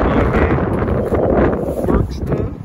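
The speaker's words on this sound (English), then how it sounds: "Now this wind is crazy" Strong gusts buffet the microphone of a cyclist riding on pavement near woods, a loud rumbling roar that fills the whole moment.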